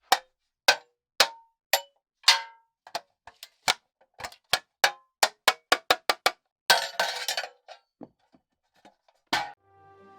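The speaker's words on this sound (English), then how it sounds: "he taps his spoon on a metal box to make all these different amazing sounds" A spoon taps repeatedly on a metal box, producing a series of bright clinking hits in an uneven rhythm, followed by a brief scraping rattle, recorded as sound material for the game Hytale.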